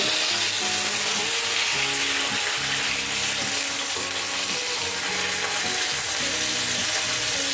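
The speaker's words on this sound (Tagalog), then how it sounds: "Mainit na yung ating mantika. Lagay na natin yung ating pork belly." Pork belly frying in hot oil in a pan, a loud continuous crackling sizzle heard up close with small irregular pops and no voices.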